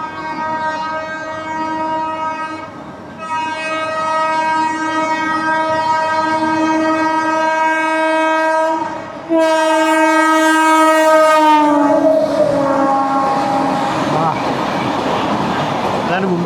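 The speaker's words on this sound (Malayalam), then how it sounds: "ചുറ്റും ഹോണിൻ്റെ ബഹളമാണ്." Locomotive horns blare at a busy Mumbai railway station, long loud sustained tones overlapping one another, one horn cutting off and another starting, over a constant rumble of station noise.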